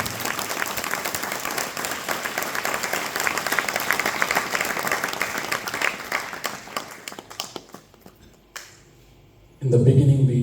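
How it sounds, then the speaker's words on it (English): Temple audience at a Mayapur gathering claps steadily and loudly for several seconds, a dense patter that thins and fades out before a voice starts speaking. "You can clap even louder."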